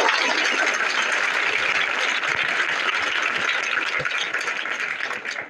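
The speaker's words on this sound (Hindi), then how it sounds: "इसके लिए आप लोग तालियां बजाइए" Dense, steady applause from a room of school students fills the whole stretch, loud and continuous before thinning slightly at the very end.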